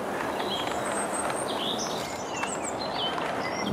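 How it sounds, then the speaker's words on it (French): Birds sing and chirp along the Garonne riverbank, several high, clear calls scattered over a steady soft background of wind and outdoor ambience, no voices. "On n'entend que les oiseaux qui chantent."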